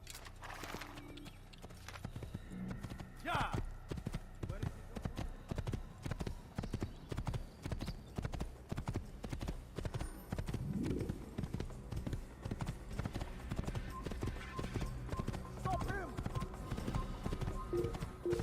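Horse hooves clip-clop in the Assassin's Creed video game, a steady, even trotting rhythm that runs throughout with a brief whinny early on and occasional quiet background ambience.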